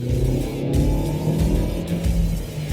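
A Tata Harrier SUV's 1.5-litre turbo petrol engine revs and rumbles steadily at close range, a deep throaty drone rising and falling slightly, with no speech.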